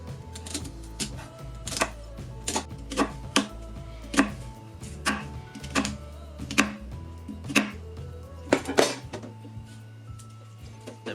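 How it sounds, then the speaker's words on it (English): A knife chops rhubarb into thumb-sized pieces on a board, with about twenty sharp, close knocks coming at an irregular pace under a low kitchen hum, and no one speaking. "Then we can cut the rhubarb into thumb-sized pieces like that"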